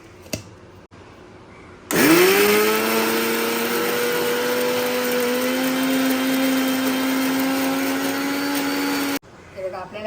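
A kitchen mixer grinder whirs loudly as it grinds fresh wet coconut chutney with a little water, starting abruptly with a rising whine and running steadily for several seconds before cutting off, with quieter sounds before and after.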